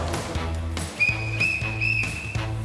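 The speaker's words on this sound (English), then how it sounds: "3 whistles means he's on his way in." A lifeguard blows a whistle three times in quick succession, each blast short and shrill, over a background of music with a steady beat.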